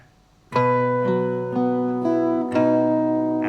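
A low strummed acoustic guitar chord rings out, the sixth-string bass with the open second string, followed by a few more sustained chords that let the strings resonate; close and unaccompanied.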